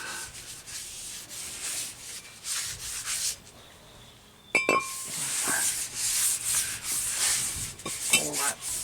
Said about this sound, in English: All that grease and oil off. Turn the tissue around a few times.